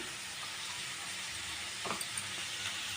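Curry leaves sizzling in hot oil alongside onions cooking until golden, a steady close frying hiss throughout with a brief stir or crackle near the end, no talking.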